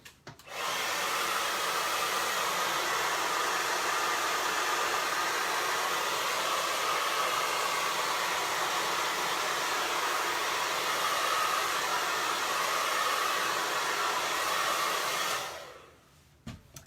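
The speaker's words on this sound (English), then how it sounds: "let me hit it with the hairdryer" A hair dryer drying paint on a mason jar blows steadily and loudly for about fifteen seconds, a constant rushing whoosh, then switches off abruptly.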